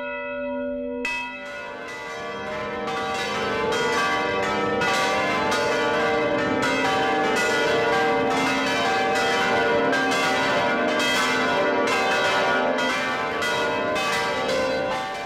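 Church bells swung by an electromagnetic Belltron drive with no contact to the motor peal continuously and loudly, overlapping strikes building into a dense, ringing wash after a brief quiet start.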